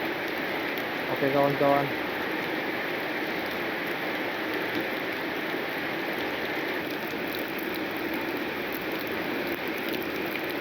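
Heavy rain pouring down at a camp while traveling, a dense steady hiss of falling water throughout, with a brief spoken voice early on.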